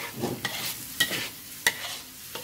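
Bitter gourd and egg being stir-fried in a pan: a steady soft sizzle with a few sharp spatula scrapes and clacks against the pan, close and fairly quiet, no voices.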